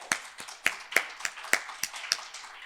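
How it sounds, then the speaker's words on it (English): Sparse, irregular hand claps from a small audience greeting a panelist at a decentralized finance panel discussion, about eight distinct claps spaced across a few seconds, fairly quiet and with no talking. "let's introduce with a big round of applause our panelist, Sebastian from Interops."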